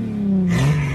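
Diesel car with a tuned exhaust revving: a loud close engine drone that climbs and then settles into a rougher, raspier tone within a second.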